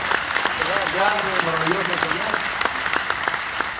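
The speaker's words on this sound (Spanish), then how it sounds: "¿Por qué no le damos una ofrenda de palmas al Señor?" A church congregation claps together at a Christian worship service, brisk dense applause running throughout under a preacher's voice speaking Spanish over it.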